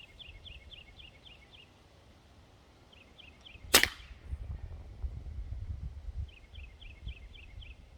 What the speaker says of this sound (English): That was shot number 5.